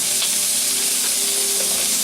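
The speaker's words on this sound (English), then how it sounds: "we're going to steam the fuck out of them for about another 2 minutes" Dumplings sizzle and steam in a pan for Chinese New Year, giving a continuous loud hiss and crackle without pause, close up and alone with no talking.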